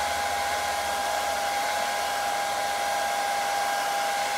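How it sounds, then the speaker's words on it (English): Hair dryer running steadily on its low setting to warm an eyeglass frame, a constant close whirring blow with a fixed hum, unbroken and alone for the whole stretch. "So I'm gonna have this hairdryer on the low setting, and I'm just going to slowly and evenly heat up this frame."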